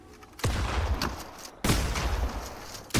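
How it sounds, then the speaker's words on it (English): A DMR rifle fires in a video game, giving two loud, close bursts of booming gunfire with a ringing tail, the second starting after a brief drop in level, with no voices. "Why is this DMR so loud?"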